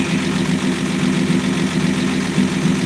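A 1965 Dodge Dart's 225 cid slant six engine idles with a steady, loud, low rumble and even vibration throughout, with no voices.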